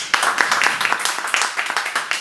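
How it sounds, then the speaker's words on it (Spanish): An audience at a literary writers' event claps for a poet, a short burst of fairly close, uneven hand claps at moderate volume. "pido adelantadamente un aplauso"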